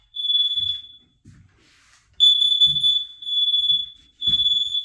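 An interconnected carbon monoxide and smoke alarm in a bedroom sounds a series of loud, piercing high beeps in long pulses with short gaps, over soft low thumps.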